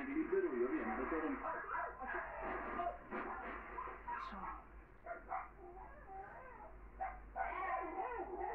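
An abandoned puppy whimpers and yips in thin, wavering cries, heard close by and mixed with someone talking in Italian over it.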